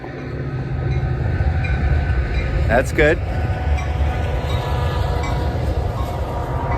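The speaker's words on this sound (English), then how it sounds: "And we got a little train action," A train passes on nearby rails with a steady, loud rumble and clatter running throughout, a brief metallic squeal partway through, and a person speaking briefly over it.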